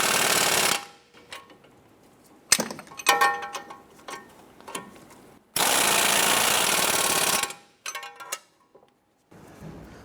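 A power impact tool tightens bolts on a CV axle assembly of a 2007-2012 Nissan Versa, with loud repeated hammering bursts separated by clanks, rattles and short pauses, close by and with no talking.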